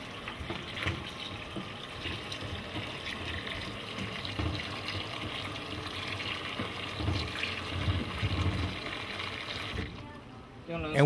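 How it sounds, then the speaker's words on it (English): Cooked tapioca pearls are rinsed under a cold running tap, giving a steady broadband splash of water into a sink that carries on throughout and then cuts off near the end. "We then rinse them with cold water, just like spaghetti."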